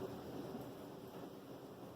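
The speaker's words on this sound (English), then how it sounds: "It is raining pretty good." Heavy rain pouring down in a steady, dense wash of noise with no breaks, filling the whole two seconds at even loudness.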